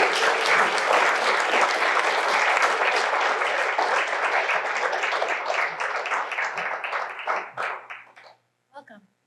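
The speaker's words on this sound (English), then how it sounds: "Let's give a big round of applause." An audience at a police swearing-in ceremony breaks into a big round of applause, dense and sustained clapping that thins out and trails off into a few last claps at the end.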